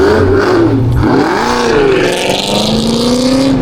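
A loud catless Ford Mustang 5.0 or Camaro ZL1 engine revving hard as it accelerates, with a rising high-pitched whine climbing over the deep roar, close and continuous.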